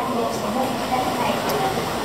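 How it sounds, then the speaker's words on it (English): A Tokyo train rumbles with a steady, hissing noise, heard up close from inside or beside the carriage, with no distinct breaks. "Let's get on the train."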